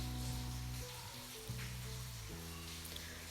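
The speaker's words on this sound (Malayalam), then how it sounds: "ഇതിലേക്ക് 4 ഏലക്ക, 2 ഗ്രാമ്പു, ചെറിയൊരു കഷ്ണം കറുവപ്പട്ട, പിന്നെ അരമുറി സവാള സ്ലൈസ് ചെയ്തതും കൂടി ഇട്ട് നന്നായിട്ടൊന്ന് വഴറ്റാം." Cardamom, cloves, a small piece of cinnamon and sliced onion sauté in hot oil, making a continuous soft frying sizzle beneath a steady low hum, with no talking.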